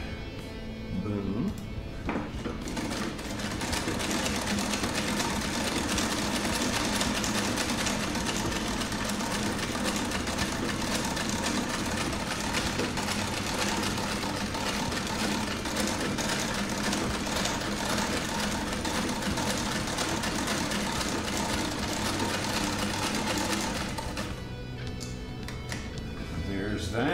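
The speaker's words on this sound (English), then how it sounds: "Crazy too to think that this sewing machine was made over a century ago and still works awesome." A 1910 sewing machine stitches denim for a new pair of jeans, running as a loud, steady mechanical whir for over twenty seconds before stopping.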